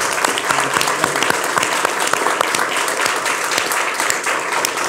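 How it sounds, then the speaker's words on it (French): An audience claps steadily and fairly loudly for several seconds, a dense even patter of many hands. "On peut l'applaudir."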